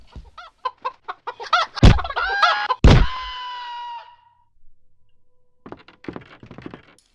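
Chickens in the horror video game Hand Simulator: Horror cluck in a quick run of short calls, then give two loud squawks with thuds. After a pause, softer clucking resumes.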